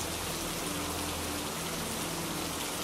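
Steady rain falls all around in a calm meditation setting, a dense, even hiss of drops that stays constant with no breaks and no voices over it.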